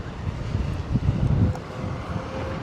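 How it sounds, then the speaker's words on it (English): Strong wind buffets a muffled microphone on a city walk through Birmingham, a loud low rumbling roar that swells and gusts throughout, with no voices. "Now it's very windy, guys, but I can't do anything about that."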